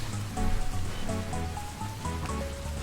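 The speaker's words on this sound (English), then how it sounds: "The rain noise is separate from the music." Rain ambience plays during a stream: a steady, soft patter of raindrops on a surface runs throughout, with faint melodic music tones mixed underneath.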